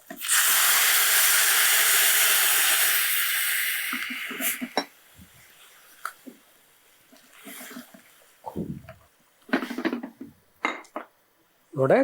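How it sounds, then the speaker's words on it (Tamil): A loud rushing hiss of water poured into a hot pot of tamarind brinjal curry lasts several seconds, then fades into quieter clinks and scraping with brief voices. "நம்ம கொஞ்சம் தேவையான அளவு தண்ணி விட்டுடலாம்"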